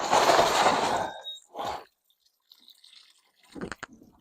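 Water is poured from above over potted plants in a food-growing setting, sweeping around a circle so each one gets some. A close, fairly loud gush opens the pour, followed by short splashes and a few faint drips.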